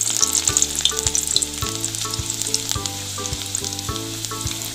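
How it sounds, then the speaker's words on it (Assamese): Garlic fries in hot oil in a wok, a steady, close sizzle with repeated stirring clatters and scrapes in an even rhythm throughout. "মই এয়া কেৰাহীত ৰসুন দি দিছোঁ। তেল গৰম হৈ আছে"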